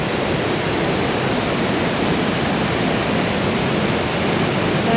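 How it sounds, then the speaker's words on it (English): A waterfall pouring down at Lake Clark, Alaska, one of two falls: a steady, loud, broadband roar of rushing water, constant throughout and heard alone, with no voices. "Waterfall on each side, and that water is pouring down."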